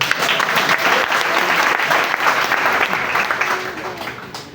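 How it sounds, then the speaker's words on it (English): A church congregation claps loudly and steadily for several seconds, dense applause filling the room with scattered voices underneath. "You clap better than that."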